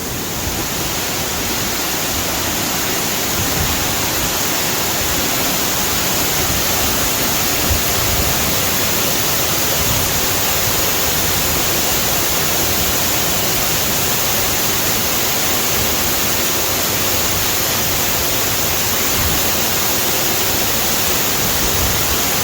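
A loud, constant roar of an underground waterfall falling in a cave, rushing water filling the space, steady and unbroken throughout, with no voices heard.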